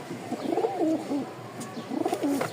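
Two soft, rolling pigeon coos close by, each a throaty burbling phrase, with a brief pause between them.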